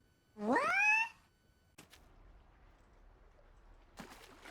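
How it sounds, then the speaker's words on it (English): Cat in the video game Outpath giving a single loud rising meow, followed by a couple of soft clicks and faint ambient background. "Oh, and I also milked a cat."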